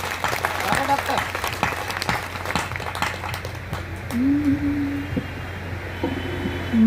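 Scattered clapping from an audience at a kavi sammelan poetry gathering in Mirzapur, sparse irregular claps under a low hum, with a voice speaking briefly over it later.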